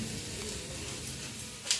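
Chopped potatoes fry in a pan with a continuous, even sizzle and a brief sharper scrape near the end.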